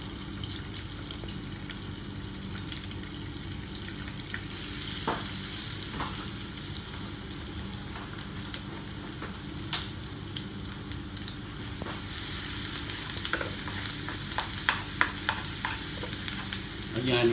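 Crushed garlic sizzles and fries steadily in a pan with oil, a continuous crackling hiss that grows a little louder toward the end, with occasional scrapes of stirring.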